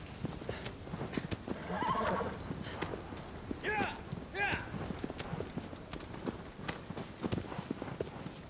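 Horse neighing and hooves from the video game Shadow of the Colossus (PS4 remake): a couple of clear whinnies in the middle over steady galloping clip-clops, with game ambience throughout.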